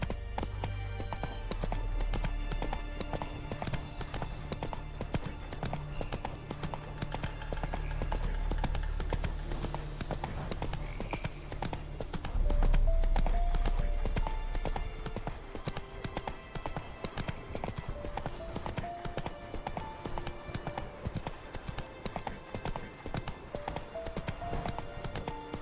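Hooves of Roach, the horse in The Witcher 3, pound out a steady gallop at close range, continuous and rhythmic beneath a layer of ambient game music and occasional low rumbles.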